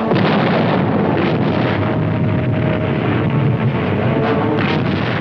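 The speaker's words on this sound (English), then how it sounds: "Their coastal guns opened fire on the Dragoon task force." Heavy coastal artillery fire and explosions from a wartime naval landing, a dense, loud, continuous rumble with wind-like roar and no clear breaks between blasts.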